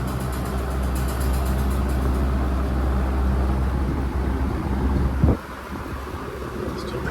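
A vintage REX box fan running at its single speed gives a steady, even whoosh with a low hum. The drone holds constant and then cuts off with a short clunk, leaving a quieter background.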